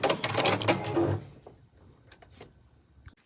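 A sewing machine stitching along a seam allowance on a fabric backpack front panel, a fast close mechanical rattle running for about a second before stopping, followed by faint clicks and handling noises.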